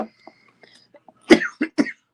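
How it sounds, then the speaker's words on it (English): A person coughs three times in quick succession, close and fairly loud, after some faint quiet sounds in an otherwise silent room. "I'm trying not to cough, but then I cough."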